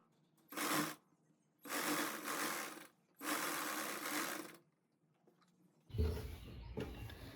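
A sewing machine stitches a salwar in three runs of about a second each, with short pauses between them. Fabric is then handled close by in a louder burst at the end.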